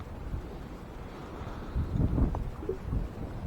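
Wind buffets the microphone in rumbling gusts, stronger toward the middle, with faint outdoor splashing underneath.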